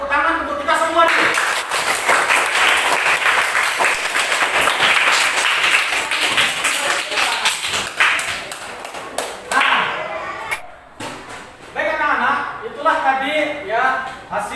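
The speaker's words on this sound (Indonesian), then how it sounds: "Pak Guru minta tepuk tangan untuk kita semua nih." Students in an Indonesian school classroom clap together in a lively, close burst that thins into scattered claps, with voices mixed in.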